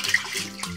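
Sticky rice being rinsed by hand in a bowl of water, with brief close splashing and sloshing as the grains are rubbed between the hands.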